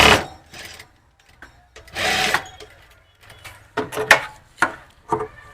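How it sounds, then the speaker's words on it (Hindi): Sewing machine stitching a coat collar in bursts of short runs separated by pauses, with handling noises between the stitching. "और अब सिलाई लगा लेंगे।"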